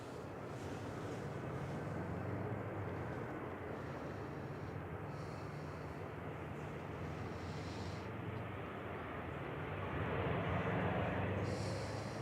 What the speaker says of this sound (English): Aer Lingus Flight 204 from Dublin, coming over the threshold now.